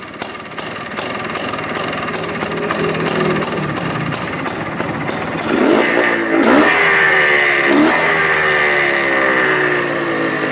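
A motorcycle engine runs with evenly spaced sharp knocking ticks, then the clutch is released in fifth gear and the engine strains. The revs swell into a louder, rising drone without stalling.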